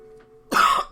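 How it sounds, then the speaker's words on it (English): Someone lets out one short, close cough, followed by a brief throat-clearing sound right after a quiet moment. "Nice little cough for you guys."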